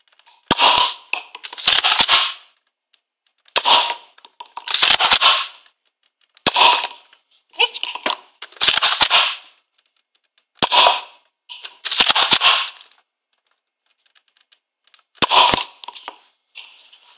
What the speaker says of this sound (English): So there's our six shots from the blaster in its stock form.